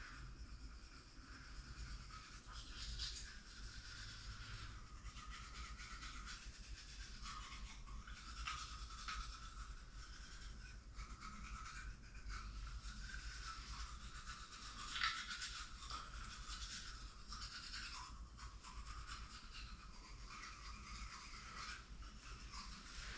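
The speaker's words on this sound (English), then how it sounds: "So when you're brushing the back of your teeth" Steady, close toothbrush scrubbing against teeth that keeps going, a continuous bristly rasp with quick back-and-forth strokes and no voices.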